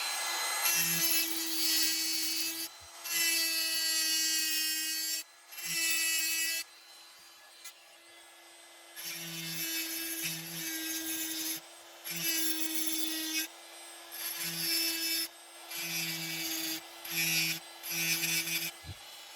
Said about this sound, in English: I'm just gonna deburr that edge lightly with a file